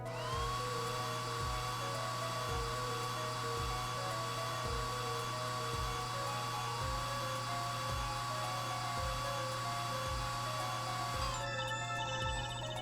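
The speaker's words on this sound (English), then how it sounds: "Next, dry the plaster." Steady whirring hum of a plaster mold being dried in the Apollo Justice video game, a continuous machine-like drone with faint rhythmic low ticks that cuts off near the end.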